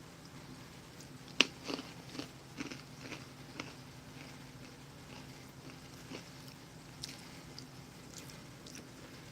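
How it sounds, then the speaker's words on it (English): Crunchy pretzel bites being chewed with MRE chicken and noodles, a string of soft close crunches and bites, strongest early and then fading to faint chewing. "I threw some of the pretzels in with the chicken and noodles to give it a little crunch"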